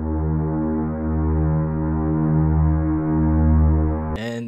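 String bass section from LA Scoring Strings with mixing applied, a deep, dark sustained bowed tone with a rich low-end hum holding steady for several seconds before ending abruptly, no voices.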